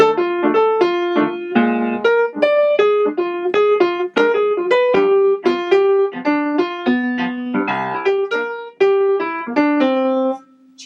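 A single-note improvisation on chord tones over the two chords of a song, played as a steady run of clear, close, evenly articulated melodic notes with a few held tones, continuous for about eleven seconds.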